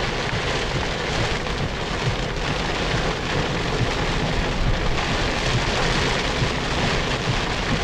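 Heavy rain pours during a Hurricane Irene thunderstorm in Ocean City, New Jersey, producing a loud, dense, continuous roar of rain on surfaces with no pauses and no talking.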